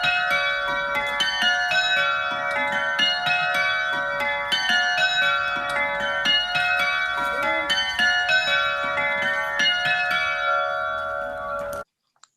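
Elkstone church bells, recently trimmed and tuned, ring in a steady pealing sequence of clear, resonant strikes overlapping with sustained tones, continuing evenly before stopping abruptly near the end.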